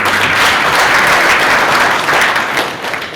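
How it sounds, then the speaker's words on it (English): Loud sustained applause from the audience at a banking and finance institute's graduation ceremony, a dense roar of many hands clapping at once that eases slightly toward the end. "People, can we clap for Mina and Mina?"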